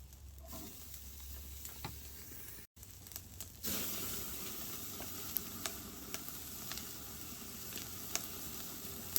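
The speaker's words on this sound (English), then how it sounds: "we got a great sear on the steak" Tomahawk ribeye steak searing on a grill, a steady close sizzle and crackle with occasional sharp pops throughout, alone without talk.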